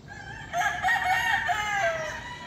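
A rooster crowing in a drawn-out call among clucking red and light-feathered chickens under a fruit tree, close and prominent after a brief quiet start, with no talk.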